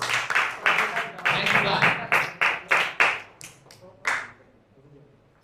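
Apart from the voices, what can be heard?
audience applause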